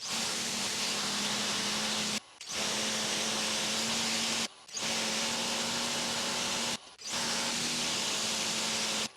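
A 3GPM pressure washer with a permanent magnet motor runs under pressure with a loud, steady, broadband rushing roar and a constant motor hum. It cuts out briefly three times, at regular intervals, before resuming.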